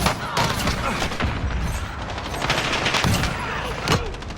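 Loud, close gunfire in the shooter game Modern Warfare 2019, with dense bursts of rapid shots and booming impacts packed together throughout a short, chaotic stretch of firefight.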